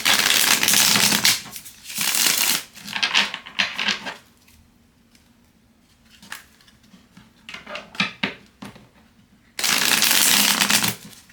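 Cards are riffled and shuffled in several brisk bursts during a card reading, close and crisp, with quieter handling taps and shuffles between them.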